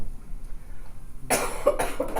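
A person coughs a couple of times, close and fairly loud, after a moment of quiet room tone.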